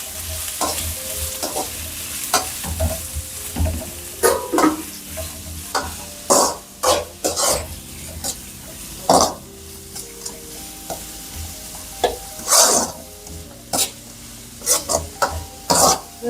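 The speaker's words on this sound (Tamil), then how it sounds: "நல்லா ஃப்ரை பண்ணணும்." Chilli chicken frying with onions and green chillies in a pan, a steady loud sizzle broken by frequent sharp scrapes and clanks of a spoon stirring against the metal.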